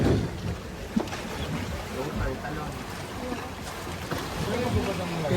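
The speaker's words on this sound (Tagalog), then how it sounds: "lakas ng alon." Strong waves wash steadily around a boat on a trip in Bicol, a broad, continuous rush of water with occasional sharper slaps, fairly close and loud throughout.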